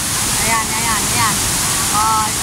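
A waterfall near Kabankalan City in the Philippines gives a constant loud rushing roar, with people's voices talking faintly over the water.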